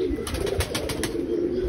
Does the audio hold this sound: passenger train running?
no